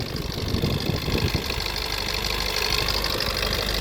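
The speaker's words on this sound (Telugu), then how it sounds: "ఇంజిన్ అయితే కంప్లైంట్ ఏం లేదు చాలా స్మూత్ రన్నింగ్ అయితే ఉంది" A diesel Maruti Ertiga engine idles with a steady, even clatter and rumble, close and continuous, with no talk over it.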